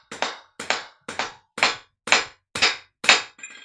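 Seven sharp hand claps in a steady rhythm, close and fairly loud, each with a quick decay, the last one softer and blurred.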